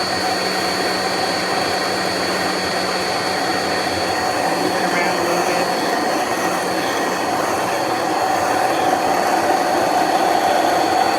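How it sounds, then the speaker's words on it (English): An immersion blender whirs steadily through ranch dressing, its loud continuous motor drone holding for the whole stretch with no break. "So I'm going to start raising the immersion blender up a little bit."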